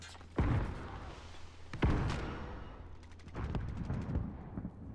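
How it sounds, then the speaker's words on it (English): Two sharp, booming video game gunshots a second or so apart, followed by a distant burst of rapid gunfire, with a rumbling background and no voices. "Hearing gunshots below me."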